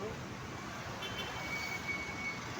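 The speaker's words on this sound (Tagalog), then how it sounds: "Traffic." Street traffic hums steadily near a motorcycle parking area in Las Piñas, a continuous broadband roadway rumble with a faint high tone drifting through and no clear voices.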